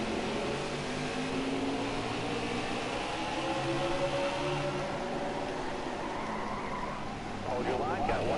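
Race cars lapping the Martinsville short track in NASCAR Heat 5, a steady drone of engines with shifting pitch and brief tire-scrub noise near the end, running continuously under commentary.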